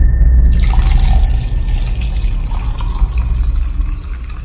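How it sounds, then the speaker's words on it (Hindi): Clean water from a stepwell pool poured into a water pouch, a steady close liquid rush and gurgle with a few drips, slightly louder at the start and then even throughout, no voices. "फिर अपनी पानी की थैली निकाली और कुंड का स्वच्छ जल उस थैली में भर लिया।"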